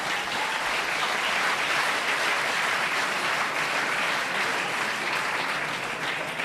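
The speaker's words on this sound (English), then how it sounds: "Who is applauding?" An audience at a talk on Austrian and Swiss neutrality and foreign policy applauds in a steady, dense clapping that holds evenly for several seconds, with no speech over it.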